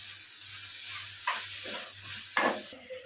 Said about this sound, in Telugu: 2 స్పూన్లు టొమాటో కెచప్, 1 స్పూన్ కారం వేసుకొని ఇప్పుడు మనం కలుపుకుందాం